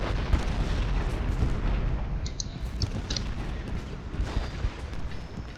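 Artillery fire in the Civil War strategy game Ultimate General Gettysburg: a dense rumbling barrage of booming cannon shots and crackling gunfire, continuous and heavy, easing slightly toward the end.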